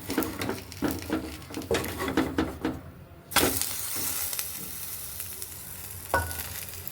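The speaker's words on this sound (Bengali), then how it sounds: "হালকাই করে ভাজতে হবে" Food frying in a pan at home, close sizzling with rhythmic pressing and scraping strokes early on, then a sudden louder steady sizzle as more is added, with a brief clink near the end.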